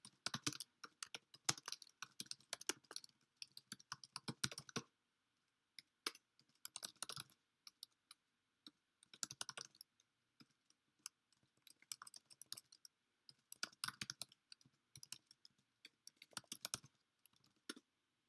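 A curl command is typed on a computer keyboard in quiet, close bursts of rapid key clicks separated by short pauses.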